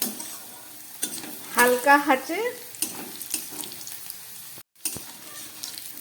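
Four pieces of potato fry in hot oil in a pan for a koi fish curry, giving a steady sizzle with stirring scrapes and a brief voice speaking partway through.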